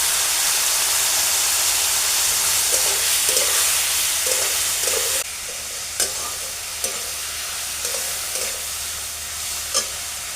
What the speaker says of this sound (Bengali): এবার দিয়ে দিলাম বেটে নেওয়া আদা জিরে আর ধনে বাটা দিয়ে আরও কিছুক্ষণ কষাবো